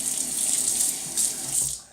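Water pours from a bathroom tap into a sink before a wet shave, a steady close hiss that swells briefly twice and then tapers off at the end.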